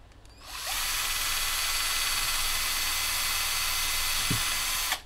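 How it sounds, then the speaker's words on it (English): A power drill whirs steadily for several seconds after spinning up, loud and close, then cuts off abruptly. "Give it another"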